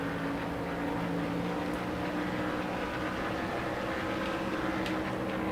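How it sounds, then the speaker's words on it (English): Held at high revs, a Nascar Thunder 2003 race car at Pocono produces a steady, unbroken engine drone with flat layered tones, loud and constant with no voices. "I'm pushing my engine as high as I can on RPMs"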